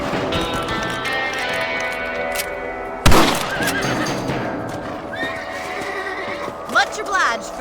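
A horse in Red Dead Redemption whinnies loudly at close range amid hoof clip-clops and ambient game music, with a sharp impact partway through and brief neighs later.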